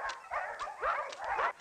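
A brown dog barks and yips in a comedy film scene, several close, strained, vocal bursts in quick succession with no talk over them.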